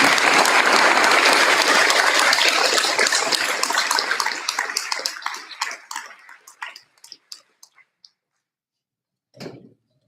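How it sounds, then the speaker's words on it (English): A round of applause at a board meeting starts loud and dense, thins into scattered individual claps and dies away, with one last clap after a short silence. "Let's have one last round of applause for all of our."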